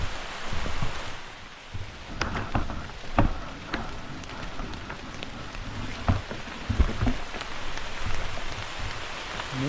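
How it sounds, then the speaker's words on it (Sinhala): Steady rain falls on trees around a hilly road in Dedugala, Dolosbage, a dense close hiss broken by scattered heavier drops and thuds, with no voices. "වැස්ස නම් වහිනවා. හැබැයි අපි වැඩි තෙමින්නේ නැහැ. මොකද ගස් වලට වට වෙලා ඉන්නේ."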